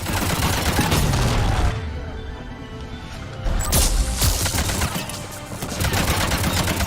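Sustained gunfire from a Mass Effect 3 firefight, loud bursts of rapid shots that thin out briefly in the middle before heavy firing resumes, with impacts and crashes mixed in.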